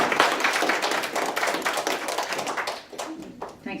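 An audience claps warmly to welcome a speaker with dense, close applause that fades out toward the end.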